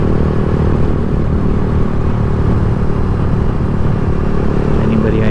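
A Lifan KP Mini motorcycle rides down the road, its engine and road rumble forming a steady, loud, unbroken drone throughout.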